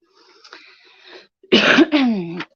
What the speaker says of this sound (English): Sorry for coughing into the mic again